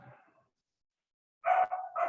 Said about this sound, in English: The dog outside